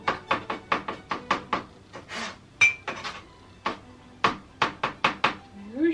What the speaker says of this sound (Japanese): ザザザザザザザザザっとみじん切りにしていきます